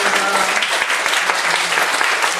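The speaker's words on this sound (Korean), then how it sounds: "우리 박수 하겠습니다." A church congregation applauds during a Sunday service to celebrate a member's sixtieth birthday, with dense, steady clapping from many hands that fills the room throughout.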